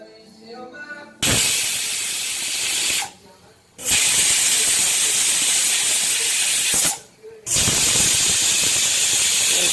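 Loud, sustained steam hiss bursts out in long blasts with brief pauses between, a pressure cooker venting close by while cooking white pumpkin.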